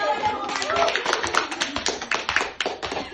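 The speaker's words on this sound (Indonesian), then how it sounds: "Tepuk tangan dong." A small group at a PKK women's recollection gathering claps hands, uneven sharp claps close by with some rhythmic bursts, mixed with voices talking and laughing.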